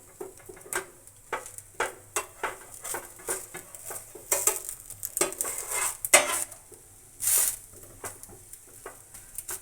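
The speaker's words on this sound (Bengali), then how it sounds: "এইভাবে পাটিসাপটা আমি ভেজে নেব সব" A spatula repeatedly clinks and scrapes against a pan while patishapta pitha fries, a run of short, close metallic knocks with a faint sizzle underneath.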